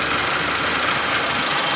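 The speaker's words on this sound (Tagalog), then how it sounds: "Andar na po yung engine guys." A repaired 2013 Mitsubishi L200 engine, previously faulted by its crank angle sensor, idles steadily and loudly up close with a continuous rumbling drone and slight knocking texture, no talk.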